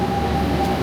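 A passenger train sits near or pulls into a station on a Kharagpur to Prayagraj route, a loud steady rumble with a faint sustained tonal whine, close and continuous for under a second with no voices.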